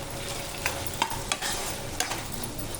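A spoon scrapes and stirs a curry in a pan, several distinct strokes over a low steady sizzle, close and fairly loud with no voices.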